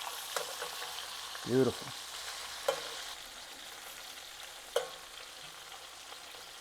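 Sticky chicken pieces sizzle steadily as they brown in a pan, a constant close frying hiss broken by a few sharp utensil clinks and scrapes, with a brief spoken word partway through.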